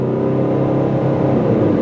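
A 2002 Chrysler PT Cruiser Touring drives along, the engine droning loud and steady from inside the cabin with a continuous road rumble and no talk.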